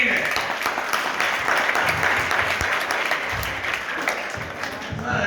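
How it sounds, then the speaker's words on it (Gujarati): An audience claps for a young girl at a Jain community gathering, sustained dense applause filling the room with steady loudness throughout. "જોરદાર તાળી આપો દીકરીને"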